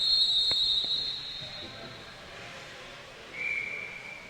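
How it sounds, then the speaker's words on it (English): A referee's whistle gives a shrill, steady blast at an inline hockey game, then a second, fainter whistle follows a few seconds later over quiet rink ambience. "for another whistle"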